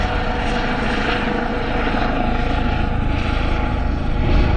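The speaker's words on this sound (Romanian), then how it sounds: "Vezi, suntem la înălțimea elicopterului." Helicopter flying close by in the Bucegi mountain area near Bran, Romania, a loud continuous rotor and engine roar that holds steady and slightly swells toward the end, with no voices over it.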